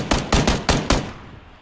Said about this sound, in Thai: มียิงกันแล้ว